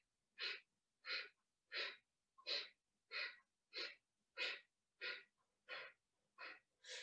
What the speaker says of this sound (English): we'll begin with that breath of fire